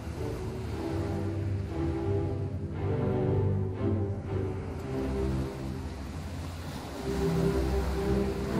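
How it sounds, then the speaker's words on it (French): Ocean waves wash steadily onto the shore, a continuous loud broadband surf with low rumbling swells and gusts of wind across the microphone, and no voices. "j'entends le bruit des vagues"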